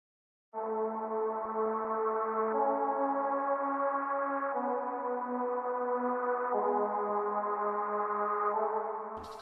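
A sustained synth pad pattern programmed in FL Studio for an EDM remix: steady layered chords that change every couple of seconds, smooth and even in level, with no voices.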